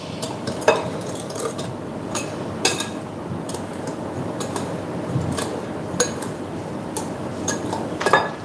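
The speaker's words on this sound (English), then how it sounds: "just going to whisk this together" Batter for a Persian love cake whisked in a bowl, a steady soft churning with scattered light ticks and clinks of the whisk against the bowl's sides, close and continuous.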